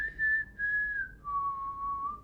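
A person whistles a short four-note signal, clean pure tones holding steady before stepping down to a lower sustained note, solo and fairly close against a quiet background.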